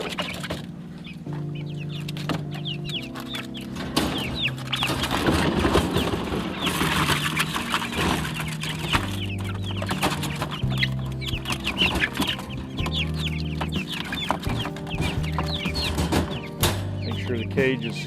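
Chickens cluck continuously in a transport cage loaded for a move to a pastured poultry farm, busy overlapping clucks mixed with rustling and a low hum, with brief talk in between.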